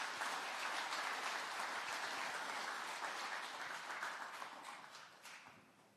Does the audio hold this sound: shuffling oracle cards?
no